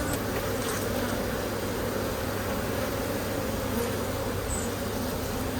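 Honeybees hum steadily around hive frames, a dense, continuous, close buzz with little variation and no voices.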